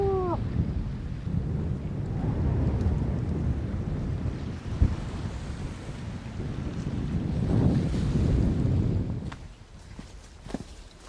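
High tide waves rolling onto Maine's rocky coast, a steady loud wash of surf mixed with gusty wind buffeting the microphone, continuous with slow swells and no talking.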